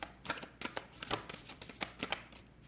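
Tarot cards are shuffled in a quick series of crisp riffles and taps, close and fairly quiet, with no voices.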